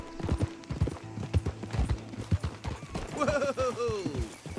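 Horse hooves clip-clopping in Red Dead Redemption 2, a steady close trot of sharp hoof strikes, joined near the end by a horse's whinny over speech in the background.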